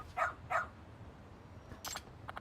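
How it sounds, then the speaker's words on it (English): A dog in the video game Lost Judgment gives two quick barks close up, followed by a few fainter clicks and rustles. "Oh, what a cute doggy."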